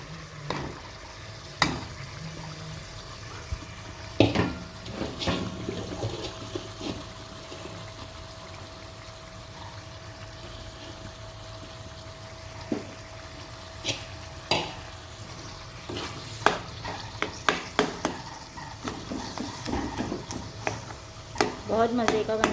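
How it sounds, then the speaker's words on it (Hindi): Potatoes fry and are stirred in a pan under a steady low sizzle, with sharp scrapes and clatters that come sparsely at first and grow dense toward the end, while a person talks at times. "अब हम इसके अंदर डालेंगे अपने आलू डाल के उसको अच्छी तरह से भून देंगे।"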